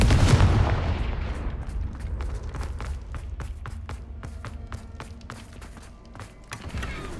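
A Confringo blasting spell in Hogwarts Legacy goes off with a loud opening burst and a rumbling low boom, then fades into a string of sharp clattering impacts and debris taps that trail on for several seconds.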